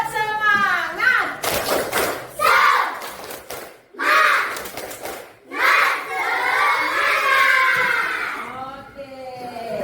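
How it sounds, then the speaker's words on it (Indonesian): A class of children and their teacher perform the tepuk semangat clapping chant, with voices chanting in rhythm and bursts of sharp group claps between the phrases, close and lively. "mari kita tepuk semangat ya. Tepuk semangat."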